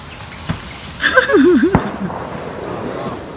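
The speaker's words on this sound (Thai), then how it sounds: "โอ้ยเสียงปืนสนั่นป่า" Two sharp gunshot cracks about a second apart in a forest, with a brief wavering whistle between them and a faint rumbling tail afterward.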